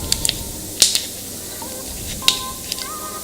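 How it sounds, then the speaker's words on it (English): A few short hissing sprays of cleaning solution from a spray bottle onto a Rolex Submariner watch, close by, separated by brief pauses over a quiet background. "So I'm going to spray this"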